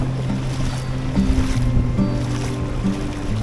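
Waves breaking at the beach at Norah Head, a continuous rolling wash of surf with some wind rumble, steady and moderately loud with no voices.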